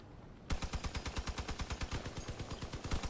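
Rapid cannon fire in the vehicle combat game Crossout, a steady stream of sharp, evenly spaced shots that starts abruptly and rattles on loud and close with no talk.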